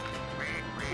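A cartoon duck quacks twice in the video game Scribblenauts Unlimited, heard clearly over steady game background music.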